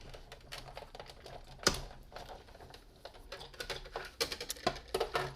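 A die-cutting machine feeds a card through with a cutting plate, giving a faint, close run of small clicks and rattling ticks, uneven and quickening toward the end, with one sharper knock early on.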